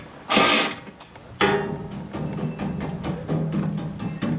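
A Putco MOLLE panel mounted on a Jeep Wrangler is struck a couple of times, giving two sharp metallic knocks followed by lighter rattling and clicking, close and fairly quiet.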